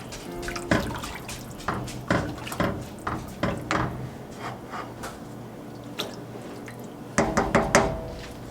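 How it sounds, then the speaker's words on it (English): Garlic powder being stirred into chicken noodle soup ingredients in a pot, giving a series of wet clinks, taps and sloshing knocks at an irregular pace, close and fairly clear with no talking. "We're going to give this a mix."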